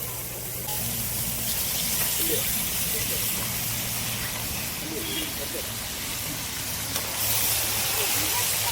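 Cleaned beef head meat hits a hot pan for a beef head curry gravy, giving a steady broadband sizzle and hiss that runs throughout with a low hum underneath.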